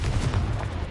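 Confringo fire spell cast in Hogwarts Legacy, a short, dense fiery blast that booms and rumbles throughout, loud and close with no voices.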